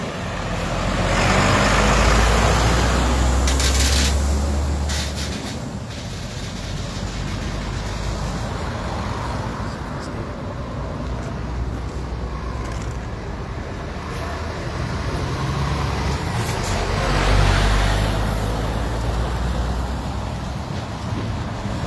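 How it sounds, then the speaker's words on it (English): Heavy trucks rolling past at Dublin port at night, a steady broadband roar of engines and tyres with low rumbles swelling near the start and again later as vehicles go by close, no talk. "We're just going to let the trucks pass now again."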